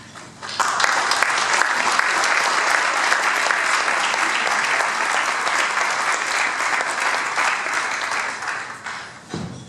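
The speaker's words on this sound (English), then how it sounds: "It's always a trick to get to the stage before the applause stops." A large symposium audience gives sustained applause for nearly ten seconds as a senator is welcomed to the stage, the dense clapping steady and loud before stopping abruptly.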